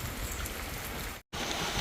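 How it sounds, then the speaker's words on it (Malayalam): Steady rain pours in a dense, even hiss, broken by a brief moment of silence before the downpour resumes. "മഴ കുറഞ്ഞില്ലെങ്കിൽ മഴയത്ത് പോവും."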